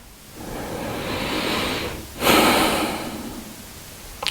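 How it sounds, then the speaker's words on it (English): Slow, natural breaths during a seated relaxation exercise: a long, soft airy inhale, a brief pause, then a louder exhale that fades out, close to the microphone, with no talking. "So you do a normal natural breathing."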